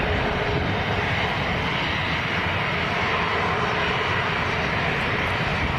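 A Jet2 Boeing 737-300 airliner at Leeds Bradford Airport produces a loud, steady engine roar with broad rushing noise that holds constant throughout, close and unbroken, with no voices over it.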